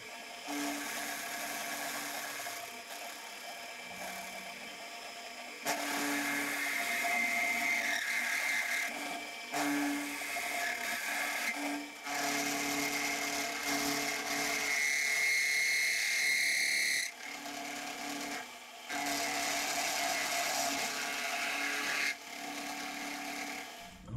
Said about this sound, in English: I certainly reckon them headstock bearings on those spindle bearings need attention pretty bad